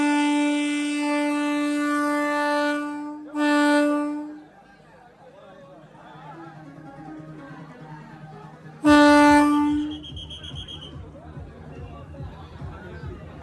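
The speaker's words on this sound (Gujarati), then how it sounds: "વંદે ભારત ચાલુ થવાની તૈયારીમાં છે, ઉપડવાની તૈયારીમાં છે." A Vande Bharat train sounds two loud sustained horn blasts at a platform, one long and one shorter, then a later blast, with rumbling movement and crowd chatter in between.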